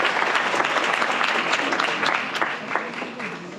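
An audience at a university ghazal and poetry night breaks into loud, dense applause that holds steady and then tapers slightly, with voices and a few cheers mixed in.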